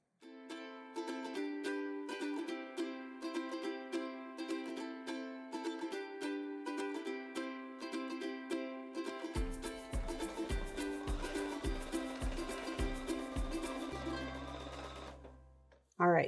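A sewing machine stitches quilt four-patch pieces in a fast, continuous, evenly pulsing whir, close and steady for about fifteen seconds before stopping abruptly.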